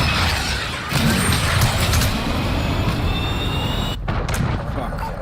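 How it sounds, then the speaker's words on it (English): A cruise missile in Call of Duty Modern Warfare launches and impacts as a loud, continuous roaring rumble with a heavy surge near one second and a short dip near four, blended with radio chatter and battlefield noise. "cruise missile away"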